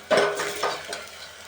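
Tomato and onion masala sautéing in oil in a pan, with a spoon clattering and stirring at the start and softer scraping strokes afterward, close and fairly loud over a low sizzle.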